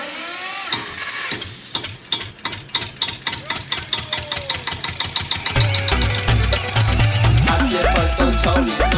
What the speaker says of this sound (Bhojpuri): चालू कर जनरेटर।